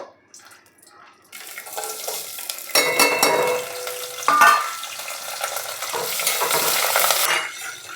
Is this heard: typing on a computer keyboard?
no